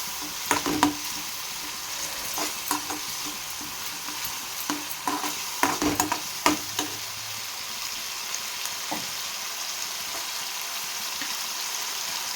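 Raw prawns fry with drumstick leaves in a pan, giving a steady close sizzle broken by scattered clicks and scrapes of stirring, with no talk.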